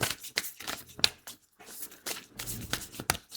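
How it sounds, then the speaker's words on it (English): Tarot cards are shuffled by hand in quick, crisp bursts of riffling and flicking, close and fairly quiet, with short pauses between rounds. "I'll shuffle until they stop"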